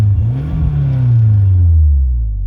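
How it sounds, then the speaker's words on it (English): A car engine revs up with a low, swelling rumble, holds briefly, then sinks back toward a steady idle, heard close and loud with no voices. "you can rev it up and all that"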